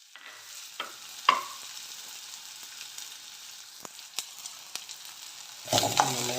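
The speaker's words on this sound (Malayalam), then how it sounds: "നന്നായിട്ടൊന്ന് വഴറ്റി കൊടുക്കാം." Chopped onion with mustard seeds sautéing in coconut oil in a kadai for spinach thoran, a faint steady sizzle broken by sharp clicks and scrapes of a stirring spoon, then a louder burst of frying near the end.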